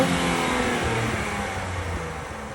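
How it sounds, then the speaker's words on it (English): A 2023 Nissan Z exhaust free-revving near the rev limiter, a close, loud, continuous engine drone with rising and falling pitch and no talking. "I'll put an exhaust clip here. It doesn't sound honestly that great, just free revving it."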